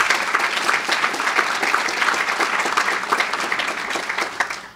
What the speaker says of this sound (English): Let's have a round of applause for the Main Street businesses.